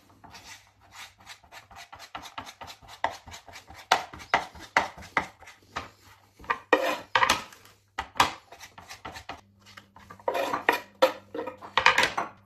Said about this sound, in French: première chose à faire, c'est couper des lardons.